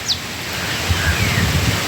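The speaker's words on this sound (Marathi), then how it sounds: "पावसाला सुरुवात झाली" Rain beginning to fall in a windy village setting, a broad steady hiss of drops and gusts that holds at a constant, fairly loud level throughout with no voices.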